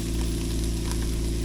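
Tomato puree poured into a pan of caramelized onions for a savory tomato onion jam, giving a steady, loud sizzle and frying hiss that carries evenly throughout with no voices.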